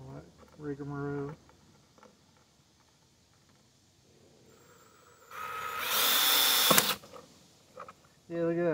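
A cordless power drill bores with a bit during a gate opener repair, giving one loud, sustained burst of about a second and a half between stretches of talk; a person speaks before and after.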